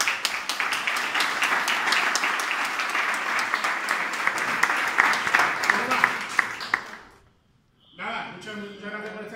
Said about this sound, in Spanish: me gustaría dar un fuerte aplauso